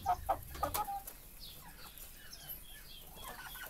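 Young poultry chicks being raised on damp buckwheat mash give a few quick, close clucks and peeps in the first second, then fainter scattered chirps continue over low background noise.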